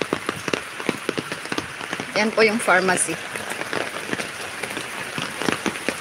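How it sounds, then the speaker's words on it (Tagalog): Heavy rain pours steadily onto surfaces with dense pattering and sharp drip impacts throughout, while someone speaks briefly in Filipino partway through, close by. "Lakas talaga ng ulan."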